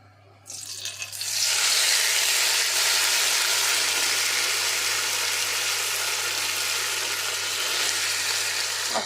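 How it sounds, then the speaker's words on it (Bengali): Chicken dropped into hot mustard oil in a wok bursts into a sudden loud sizzle about half a second in, then holds a steady, intense frying hiss to the end. "এখন মুরগিটা দিয়ে দেব।"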